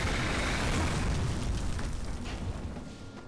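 Heavy boomy explosion rumble from bombs going off in the video game Darksiders, a dense low roar that swells at the start and slowly fades over a few seconds, with no talk over it.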